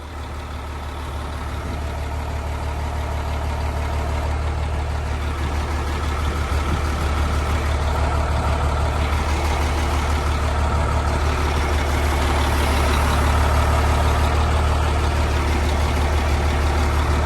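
A truck engine runs steadily at raised revs, a dense, loud mechanical drone that holds constant and builds slightly louder over time, with no voices.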